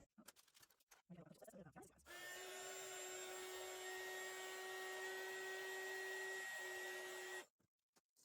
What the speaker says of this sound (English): I'm going to put my air gun on here, and let's see about drying that a little bit.